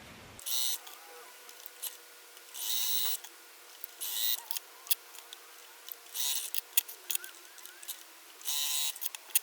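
Short, close bursts of machine stitching come every couple of seconds as quilt block pieces for a half-square triangle block are sewn together, with light clicks and fabric handling in the quiet gaps between runs.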